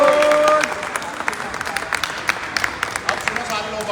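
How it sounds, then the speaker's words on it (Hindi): Loud audience applause at a sales achievers' celebration, a burst of many hands that thins into scattered individual claps while a voice talks over it. "वही फाइटर्स के पास जोरदार ताली।"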